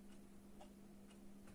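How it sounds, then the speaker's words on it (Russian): A wall clock ticks quietly and steadily in a still room, with soft, evenly spaced ticks over a low background hum and no voices. "Вот так вот они тихо тикают."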